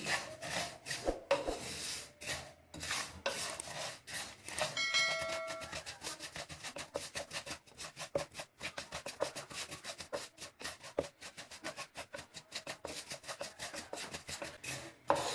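Dense crackling and popping as sesame seeds roast in a hot pan, quick irregular snaps over a steady sizzle with occasional scraping, close and fairly loud.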